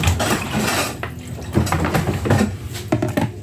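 A metal pot lid clatters and clinks while someone cooks, several close, uneven knocks and scrapes of metal against pot over a few seconds.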